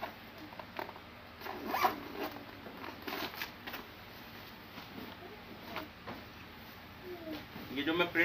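A zippered bedsheet package is unzipped, with scratchy zipper runs and crinkling plastic handling sounds in short bursts under someone talking.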